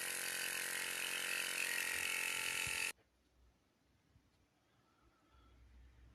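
Vintage MFA Stingray electric motor from a wooden speed boat, running with a loud, harsh, broadband rattling whir that cuts off abruptly midway, leaving only faint background noise.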